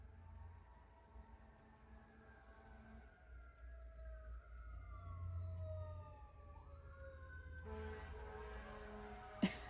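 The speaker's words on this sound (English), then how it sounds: "sorry for the sirens." Emergency vehicle sirens wail along a city street near a hospital, rising and falling tones sweeping past at moderate distance over steady traffic rumble, with a brief louder burst near the end.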